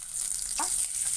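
Ginger, garlic and green chilli sizzle in hot oil, a brief, steady hiss up close with a quick scrape of stirring partway through and no speech.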